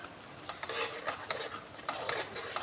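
A spoon stirs a wet masala gravy in a pan, with repeated soft scraping and squelching strokes in a steady rhythm over a faint background hiss, close by and alone.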